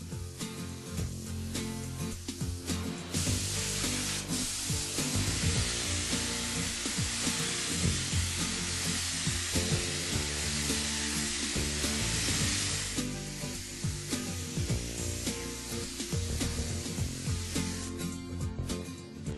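A spray gun lays base coat onto a Mercedes-Benz car body in a continuous hissing burst that runs loud and steady for about ten seconds. Shorter, choppier spraying comes before and after it, with no talk.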